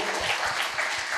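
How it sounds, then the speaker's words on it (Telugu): A short burst of audience applause, a dense even patter of many hands clapping continuously at moderate volume, with no voices over it. "సో చప్పట్లు కొడదాం మేడంకి"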